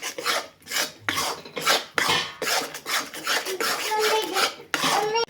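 A spoon scraping and stirring gram flour with turmeric in a pan during roasting for besan laddoos, in repeated rhythmic rasping strokes with occasional metallic clinks, close and fairly loud, with no speech.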